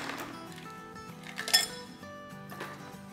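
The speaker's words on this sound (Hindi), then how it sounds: "और अब इसमें हम ढेर सारी आइस डालेंगे।" Ice cubes dropped into a glass of lemon sharbat clink and rattle in a short cluster, loudest at one sharp knock midway, over soft background music.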